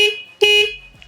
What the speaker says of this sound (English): The horn sounds like this